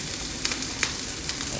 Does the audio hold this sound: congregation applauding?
no